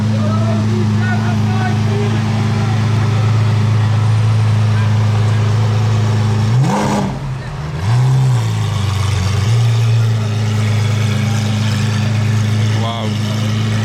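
A 1995 car with an exhaust runs on a Monaco street, giving a loud, steady low engine drone throughout with a rising and falling sweep partway through, while people talk nearby.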